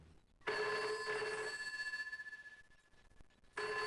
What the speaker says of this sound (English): The telephone was ringing